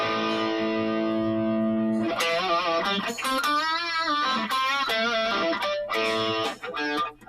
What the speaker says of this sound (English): We got reverb turned up.